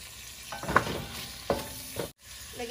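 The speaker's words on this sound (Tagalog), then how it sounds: "kutsahin muna natin ang hipon ng wala ang lansa" Shrimp sautéing in a pan on the stove make a steady sizzle with a few sharp stirring scrapes and clinks of the utensil against the pan, close and clear with no talking.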